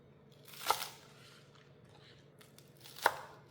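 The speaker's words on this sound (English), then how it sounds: "Next, cut celery stalks diagonally for texture and crunch." A kitchen knife cuts diagonally through celery stalks on a board, making two crisp, crunchy chops about two seconds apart. The chops are close but quiet, with near silence between them.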